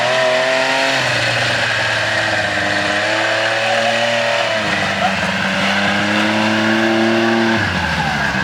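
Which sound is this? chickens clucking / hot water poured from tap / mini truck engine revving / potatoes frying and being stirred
mini truck engine revving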